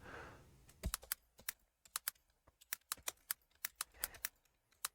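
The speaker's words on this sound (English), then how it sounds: "Let me type it in." Someone types on a computer keyboard: a quick run of crisp, close key clicks in uneven bursts, loud and clear against a quiet background, with a short soft breathy sound at the start.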